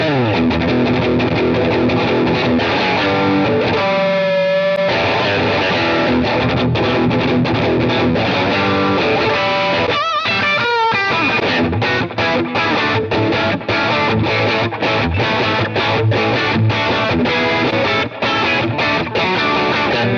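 A loud, gritty overdriven Telecaster electric guitar with aftermarket pickups plays continuous riffs and chords with crunchy distortion, no voices, filling the whole stretch.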